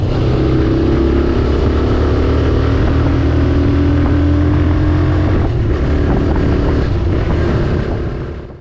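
A TVS Raider 125 motorcycle engine runs loud and close, a continuous droning roar with slight rises in pitch as it is revved, fading slightly at the very end.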